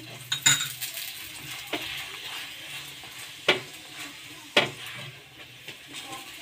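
Gentle sizzling of a pea-stuffed kochuri flatbread frying with a little oil in a pan, with a few sharp metallic clinks and scrapes of a utensil against the pan.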